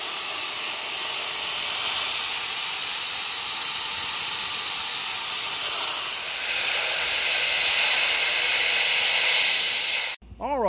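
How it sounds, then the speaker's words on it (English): Sandblasting a Cadillac 472 valve cover flange with Black Beauty media, done over a garbage can with a piece of wood: a loud, steady, close rushing hiss that runs unbroken for about ten seconds, then cuts off abruptly. "get a little Black Beauty media blasting involved to get down inside the flange and clean up the rest of it"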